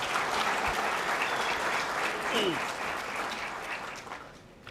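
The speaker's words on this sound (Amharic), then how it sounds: "አንድ ጊዜ ሞቅ አድርጋችሁ አጨብጭቡ" Audience applause at a film premiere, broad even clapping filling the hall, moderately loud and sustained before tapering off slightly toward the end.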